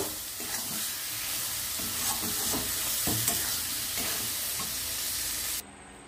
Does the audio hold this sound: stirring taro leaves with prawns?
yes